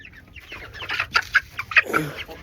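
Golden Comet hens clucking close by, a series of short, uneven clucks and squawks over roughly two seconds on a farm, with no voices.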